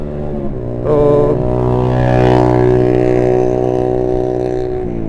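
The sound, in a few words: engine being revved during a test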